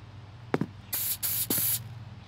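Spray painting a go-kart in the video game Gearhead Karting: short hissing spray bursts, first a couple of quick puffs, then two longer sustained sprays, fairly loud over a low steady background hum.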